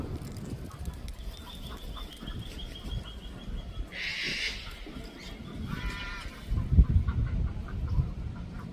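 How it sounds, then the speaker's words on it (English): Ducks near Campbelltown, Australia, giving a few brief quacking calls in the middle distance over a steady outdoor background, with other birdsong and a low rumble. "Lots of ducks around this area."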